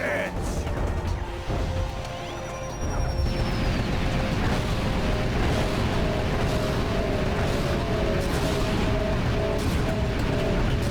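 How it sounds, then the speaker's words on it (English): Dense, sustained game-combat crashing and booming from a thrown ship exploding with a wide blast radius in Ratchet and Clank 2, loud and continuous with layered impacts and rumbling debris throughout. "You see how it's got a big radius there in the explosion."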